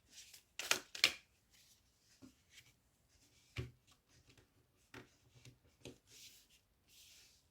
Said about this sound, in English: they say that shuffle these cards